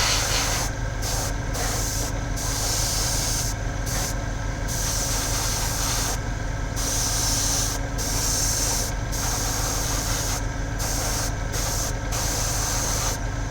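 An airbrush sprays paint onto a Venom Troll miniature, giving a continuous close airy hiss with a low compressor hum underneath and brief regular dips where the trigger is released.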